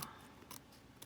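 Scissors trimming along the edge of a paper cover on a mini composition notebook, with a few quiet, crisp snips spaced apart and no talking.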